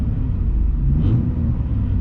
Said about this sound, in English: It's not exhaust you're hearing. That's the engine and the motor mounts